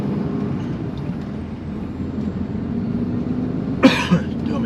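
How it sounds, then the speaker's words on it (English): A single short cough close to the mic, followed by a smaller second one, over a steady low rumble of traffic or engine noise. "still got this cough I can't shift"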